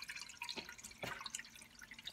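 Water from an opened tap runs into a reef tank RO/DI filter system, heard as faint, irregular dripping and trickling with a couple of slightly louder splashes, close by and with no voices.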